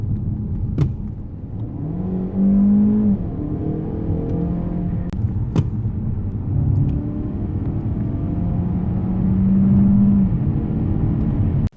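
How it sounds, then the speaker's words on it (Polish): Peugeot 508 PSE plug-in hybrid with a 1.6 engine and three motors accelerating on the road, a steady interior engine drone rising in pitch, with a couple of sharp clicks. "W trasie jest już lepiej, a strzał z tych trzech silników jest już bardziej odczuwalny"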